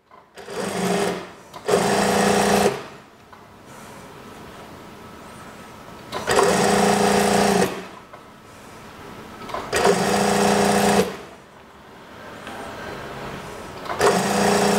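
Sewing machine stitching a 1.5 cm seam in fabric for a regular-sleeve kimono house dress: loud, close whirring bursts of a few seconds each, separated by quiet pauses.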